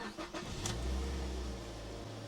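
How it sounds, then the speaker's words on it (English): A Mazda MX-5 NC fitted with a ram air induction kit cranks and catches, settling into a steady, close engine drone that carries on alone to the end. "So to do that, we're going to start the engine up."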